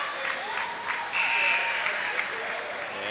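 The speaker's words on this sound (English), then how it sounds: "As a nice round of applause for the senior." Sustained crowd applause in a gym at a high school state playoff basketball game as a senior player leaves the court for a curtain call, steady clapping with a commentator talking over it.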